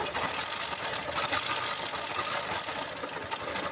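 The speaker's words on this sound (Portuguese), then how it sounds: "E ela também tem um barulhozinho na campana" A 2004 Honda CG Titan 150 motorcycle engine idles with a faint noise from the clutch bell, a close, steady rattling clatter with fast ticking knocks over a constant engine drone.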